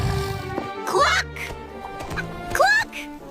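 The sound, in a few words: hen cackling in a fairy tale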